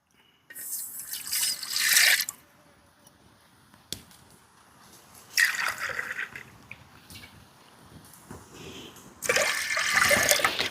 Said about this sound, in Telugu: రెండు గ్లాసు వాటర్ అయితే వేసుకుందాం